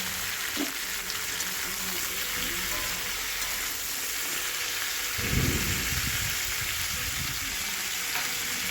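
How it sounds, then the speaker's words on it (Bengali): Mixed vegetables for shukto fry in oil with salt, giving a steady, close, broadband sizzle throughout, with a louder burst of stirring and bubbling around the middle. "সবজিগুলোকে আলাদা করে সব ভেজে ভেজে নিতে হবে"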